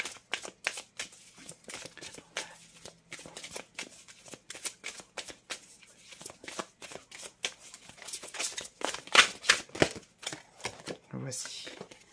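Tarot cards are shuffled and laid out close by, with a long run of soft, quick riffles and slaps that grow a little busier near the end.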